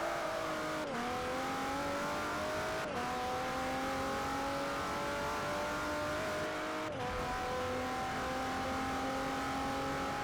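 A Nissan VQ V6 race car engine in Forza Motorsport 4 holds a loud, steady high-revving drone, climbing through the gears with three sharp shift breaks, no talking over it.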